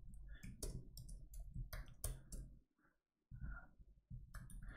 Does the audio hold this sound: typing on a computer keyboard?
yes